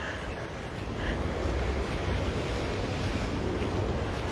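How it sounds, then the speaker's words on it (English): Ocean waves surge onto a beach in Hawaii, a continuous broad rushing wash of surf mixed with gusty wind noise on the microphone, with no talk. "it's coming in a couple errant waves"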